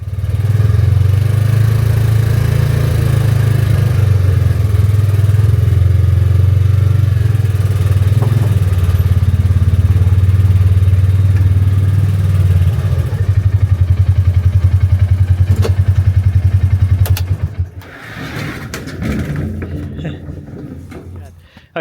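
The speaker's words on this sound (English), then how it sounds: "it's so quiet, but yet there's the four-wheeler over there" A four-wheeler ATV engine drones with a steady low hum for about seventeen seconds, then fades out, leaving quieter outdoor sounds with faint clatter.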